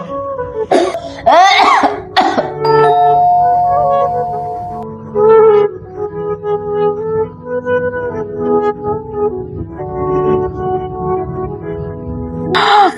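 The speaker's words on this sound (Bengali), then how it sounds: "কানের কাছে শুয়ে শুয়ে কাশতেছো।" A person lying down coughs in a fit, with several loud, harsh coughs near the start and another burst at the end, separated by quieter stretches with faint background music.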